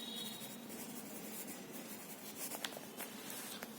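Pen writing on paper during a maths class, a soft continuous scratching with small strokes and taps, faint and close, with no talk.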